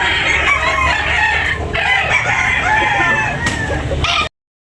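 Loud crowing from a gamecock at a rooster market in Tabunok, Talisay, several overlapping calls with clucking fowl, continuous and close for about four seconds before cutting off.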